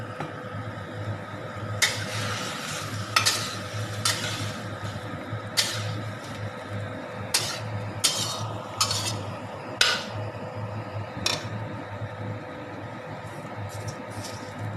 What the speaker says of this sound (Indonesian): Kita tumis bawang putih sama ebinya, tumis sampai harum. Kemudian kita masukkan brokoli yang sudah kita rebus tadi.